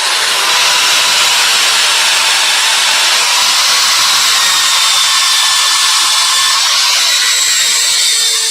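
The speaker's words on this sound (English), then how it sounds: "Right, so I'm just sanding this to 240." Sandpaper of 240 grit is held against a spinning wooden piece on a lathe, giving a loud, continuous close-up hiss and whir over the motor's hum.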